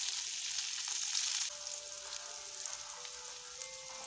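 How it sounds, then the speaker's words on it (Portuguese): Butter melting into olive oil with browned garlic for homemade pasta gives a steady, close sizzle that is loudest at first and settles slightly softer, with a faint thin tone running underneath. "Vamos deixar essa manteiga derreter."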